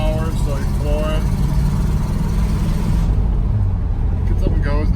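A 1961 Pontiac Catalina Safari station wagon's 389ci tri-power engine roars at full throttle under steady low rumbling road noise, with a voice speaking briefly at the start and end.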